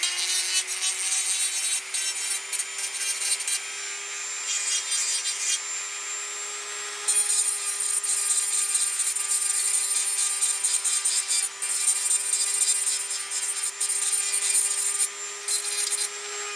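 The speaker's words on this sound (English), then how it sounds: "now it comes just to sort of sanding it smooth." Smooth, even sanding hisses on continuously for a long stretch as a Nerf blaster mod part is sanded smooth, close and fairly loud, with brief dips between passes and a faint steady hum underneath.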